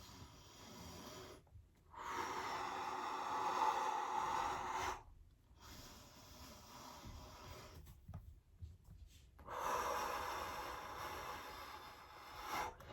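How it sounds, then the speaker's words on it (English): Deliberate, controlled breathing during a core exercise: two long, airy inhale-exhale sounds close to the microphone, each lasting a few seconds, with quiet pauses between and no talking. "So I'm just gonna breathe how I would during my exercises, and watch my stomach here as I inhale."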